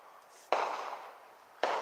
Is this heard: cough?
no